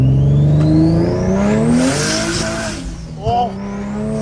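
A turbocharged Infiniti G35 coupe accelerates hard, its engine note climbing with a whistling turbo spool as the tires break loose, loud and close, dropping briefly near the end, with voices mixed in.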